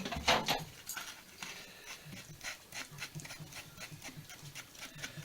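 Dog Tallulah pushing in through a doggy door: a sharp flap clatter at the start, then steady rhythmic panting and light pattering nearby, moderately quiet with no talking.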